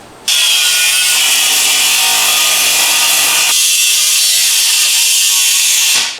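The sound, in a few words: power tool cutting hose connections off an aluminum radiator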